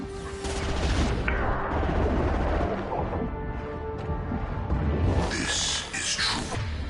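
Gunfire and explosions in Mass Effect 2 Legendary Edition: dense, continuous blasts and booming shots layered over one another, loud and close, with no clear talk.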